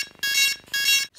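A DJI Phantom 3 Professional drone left faulty after a failed firmware update gives two loud, shrill electronic beeps in a row, each about a third of a second long.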